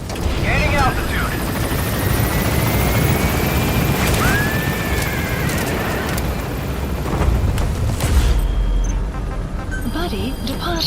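A helicopter in the video game Metal Gear Solid V rotors up and climbs, a loud steady engine roar with a rising whine, overlaid by game radio voices and effects throughout.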